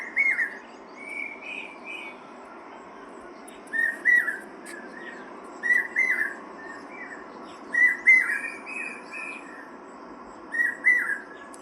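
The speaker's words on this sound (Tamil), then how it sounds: "காலையில் பறவை கத்துறது எவ்வளோ சந்தோஷமாக இருக்குது" Birds singing on a morning in a village, with short bursts of chirping and whistled calls recurring every couple of seconds over a steady, quiet background hum.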